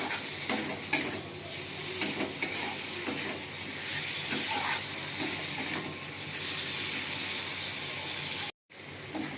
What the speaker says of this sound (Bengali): আমি মশলার সঙ্গে আলুটা ভালো করে কষে নিয়েছি